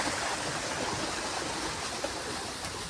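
A farm water pump motor runs in a field, with water rushing out in a steady, even broadband gush that carries on unbroken throughout at moderate loudness.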